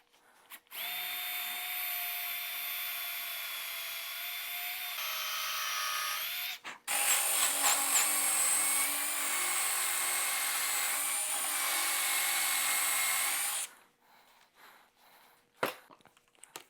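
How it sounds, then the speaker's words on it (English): A power drill bores a pilot hole into a stair railing during installation, whining steadily and loudly for about thirteen seconds. Its pitch shifts partway through, then it stops abruptly, leaving a quiet room. "I will attempt to put a pilot hole in there and correct that mistake"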